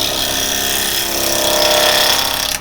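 A traditional woodturning gouge cuts into spinning wood on a lathe, giving a steady, loud, continuous shearing whir with a slight rise in intensity as the cut progresses.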